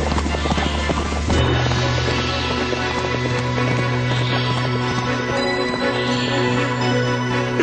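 A group of armed riders on horseback gallop past, their hooves clattering in a fast, dense rhythm, loud and close, with a steady low hum running beneath.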